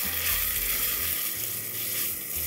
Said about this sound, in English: curry leaves and chopped onions. Let's saute this for a couple of minutes.